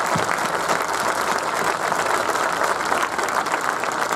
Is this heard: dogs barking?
no